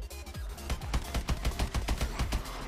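Rapid hip-fired gunfire in Call of Duty: Advanced Warfare Exo Zombies, a fast string of sharp, punchy shots with a few brief pauses between bursts, loud and close with no talking.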